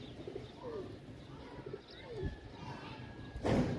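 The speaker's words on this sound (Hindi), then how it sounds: "ये बैठा हुआ कबूतर" Soft, low pigeon coos sound faintly and intermittently, ending with a brief louder rustle.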